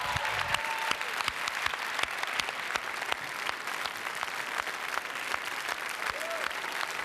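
An audience at the Cannes Film Festival applauds Sean Penn and his team: sustained, moderately loud clapping from a large crowd, with individual sharp claps audible and faint voices underneath.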